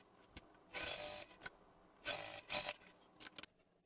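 A sewing machine bastes fabric for a convertible tote backpack with a 1/8 inch seam, running in several short, quiet bursts of stitching separated by pauses and small handling clicks.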